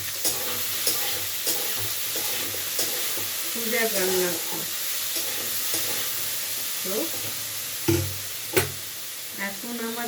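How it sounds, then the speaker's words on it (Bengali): Bitter gourd, eggplant and potato fry together in a pan with a continuous sizzle and occasional scraping stirs, while a voice talks intermittently over the cooking. "আর এখানে আমি করলা, বেগুন, আলু দিয়ে ভাজা করছি সেদ্ধ মতো।"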